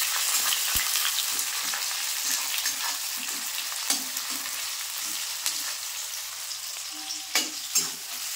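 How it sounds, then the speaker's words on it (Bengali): Chopped onions frying in hot oil with bay leaf and whole garam masala, a loud continuous crackling sizzle up close, broken by occasional spatula knocks and scrapes against the pan, no talking. "পেঁয়াজটা হালকা করে ভেজে নিয়েছি"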